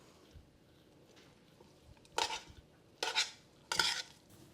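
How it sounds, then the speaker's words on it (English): Pasta tossed with tongs in a bowl with butter, garlic salt and Parmesan cheese, quiet at first, then three short bursts of wet, clattering tossing close by. "go ahead and take your tongs and toss the pasta with the butter, garlic salt,"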